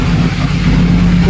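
The engine of the Coonoor-to-Ooty mountain train gives a loud, close, steady low throbbing hum in one short, unbroken burst with no voices.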